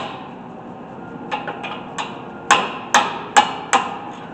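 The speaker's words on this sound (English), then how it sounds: "Next, we'll take the caliper brake off." Sharp metallic knocks sound while the brake caliper comes off a 2017 Nissan Rogue: a few light taps, then four louder, evenly spaced strikes close by, with no talking.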